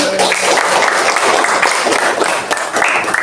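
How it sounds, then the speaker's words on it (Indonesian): Students in a classroom break into applause at a teaching session: loud, brisk clapping from a group, dense and continuous, with a few voices mixed in. "Tepuk tangan."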